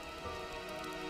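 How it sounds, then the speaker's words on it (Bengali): Steady rain patters on a surface as a soft, even hiss, continuous and unbroken with no voices. "বৃষ্টি থামা পর্যন্ত এখানে বসে থাকলে কেমন হয়?"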